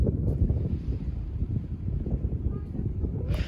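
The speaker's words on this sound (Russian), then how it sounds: "Да, там ветер сильный." Strong wind buffets the microphone outdoors near Gelendzhik, Russia, with a steady low rumble and gusts throughout, loud and continuous.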